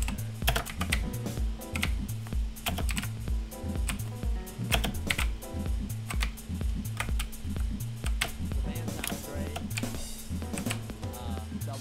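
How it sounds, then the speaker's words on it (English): Fast, continuous typing on a computer keyboard to chat during a League of Legends game, dense clacking keystrokes over a rhythmic low background beat. "I gotta type in chat."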